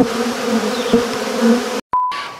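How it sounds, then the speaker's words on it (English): Honey bees buzz steadily around an opened hive, a dense close drone with a few louder passes, cut by a brief gap and a thin high tone near the end. "you notice the bees didn't go all crazy how they have in the past"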